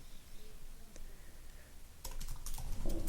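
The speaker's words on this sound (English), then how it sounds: "Let's say you want to type like this:" Soft keystrokes tap on a computer keyboard, at first faint and sparse, then turning into a quicker burst of close clicks near the end. The surroundings are otherwise quiet.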